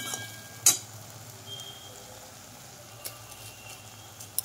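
Banana flower is being sautéed with red chilli powder and turmeric in a pan, giving a soft, steady sizzle with a few faint scrapes and clinks of stirring, quiet and close.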